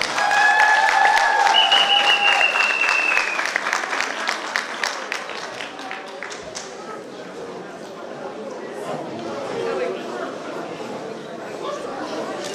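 Audience applause at a Romanian folk festival of traditions and customs, a warm round of clapping from the crowd that starts loud over a fading musical tone, then tapers into scattered claps and crowd murmur.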